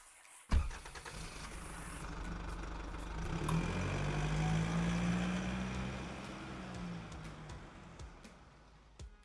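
A car's engine rumbles steadily as the vehicle backs up, rising after a sharp thump near the start and holding a low droning tone before easing off.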